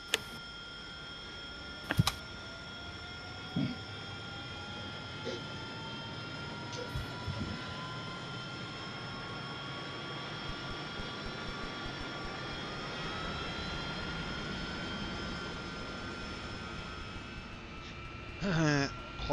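A jet engine spools up on an AV-8B Harrier in the DCS flight simulator, a steady turbine whine with rising tones holding throughout, plus a few brief clicks and people talking quietly over it.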